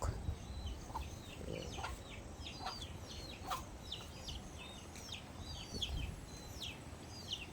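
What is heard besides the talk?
chickens clucking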